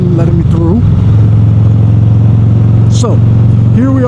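A motorcycle cruising at speed on a highway, a loud steady engine drone with rushing wind noise throughout, while someone talks over it.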